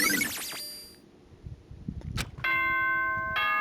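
Bell chimes announcing a class trial in Danganronpa 1: a ringing, decaying chime at the start, a short clang, then a sustained multi-tone chime that holds to the end over a soft background.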